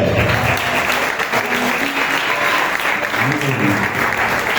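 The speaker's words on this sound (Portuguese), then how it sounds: "Palmas para Jesus, igreja" Church congregation claps loudly and continuously through a worship service, a thick wall of applause close up with voices and music faintly mixed beneath.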